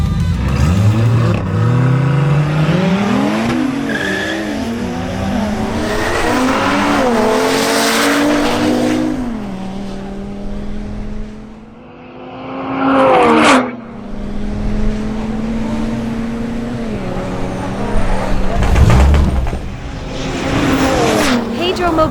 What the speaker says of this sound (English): Next up, a matchup between Pedro Mogollon's Audi RS3 and Duvin Cedino's BMW M340i xDrive.